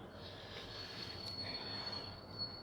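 A Paris metro train's wheels squeal continuously in a high, steady screech over a dense rumble of rolling stock, close and sustained throughout, with no voices.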